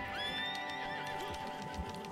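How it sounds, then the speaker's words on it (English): A horse in Red Dead Redemption 2 whinnies loudly up close, a long shrill neigh with wavering pitch, over a background of game noise and faint hoof clops. "Like this horse keeps coming to me"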